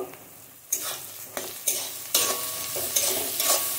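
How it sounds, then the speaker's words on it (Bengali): Vegetables with turmeric and salt fry in a pan with a steady close sizzle, broken by repeated sharp scrapes and clacks of a spoon stirring at irregular intervals; no voices. "দিয়ে ভালো করে ভেজে নিব।"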